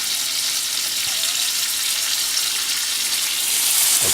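A rare steak sears in a hot pan while peppercorn steak au poivre is being made, giving a steady, loud, close sizzle of frying fat that continues without a break.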